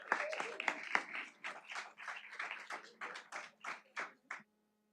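Applause for wrestlers at a wrestling event, a run of uneven clapping bursts that rises and falls for several seconds before stopping abruptly, fairly close and moderately loud with no talk over it.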